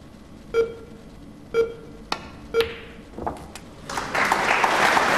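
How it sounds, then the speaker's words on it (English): Three evenly spaced electronic beeps ring out at a snooker match from the 2007 Premier League, followed by sharp clicks and then a swell of applause. "Not even the infamous beeps can break this young man's concentration."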